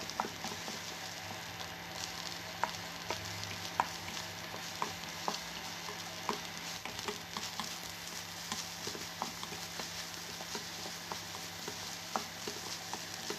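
Egg whites and rice being stir-fried in a pan for hot dog fried rice, with a continuous sizzle under frequent light, regular taps and scrapes of a spatula, close and fairly even, no speech.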